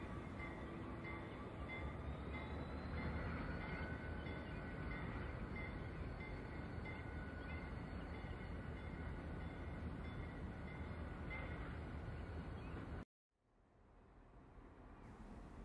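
Susquehanna railroad locomotives and their train roll past on a river's south shore, a continuous heavy rumble with rail clatter and a faint squeal, steady for about thirteen seconds before cutting abruptly to quieter ambience.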